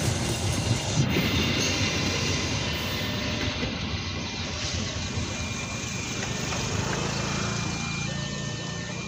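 A train rolls through Cikarang station in Indonesia, a loud and steady rumble of wheels and rail noise that holds for the whole stretch, with faint squeals and clatter over it and no talking.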